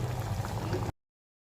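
Water boiling in a pot on a home stove for milk tea, a steady close bubbling and simmering that lasts under a second and then cuts off to silence.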